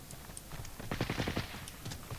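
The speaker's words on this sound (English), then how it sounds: "Somebody shot at me." Rapid burst of automatic gunfire in Call of Duty: Warzone, a quick string of sharp shots clustered in the middle, moderately loud against a busy game background.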